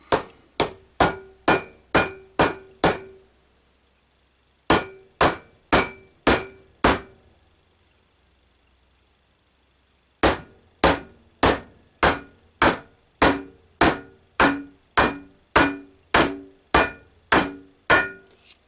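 Hammer blows on a moped axle during a rebuild, close and loud, falling in quick regular bursts of seven, five, then about fourteen strikes with short silent pauses between the sets.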